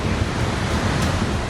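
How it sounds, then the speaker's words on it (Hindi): The flooded river in Kullu, Himachal Pradesh, roars in spate with a dense, loud, unbroken rush of turbulent water, steady throughout and with no voices. "ये तस्वीर हिमाचल के कुल्लू की है जहां नदी अपने शबाब पर है। कल कल की जगह डरावनी आवाज सुनाई दे रही है।"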